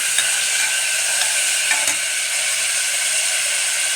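Mushrooms for mushroom pulao sauté in a pan, a loud continuous high hiss and sizzle with faint ticking of a spatula, close and steady, no voices.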